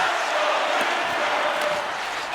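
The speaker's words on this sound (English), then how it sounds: "you can feel the energy in this crowd" Hockey arena crowd in NHL 25 during a tied game, a steady loud roar of spectators with no clear breaks.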